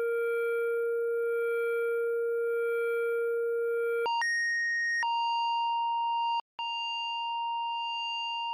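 FM synthesizer tones for a future garage track: a long steady pitched tone, then a quick series of held notes stepping between pitches, with a brief gap before the last sustained note, clean and alone without any voice.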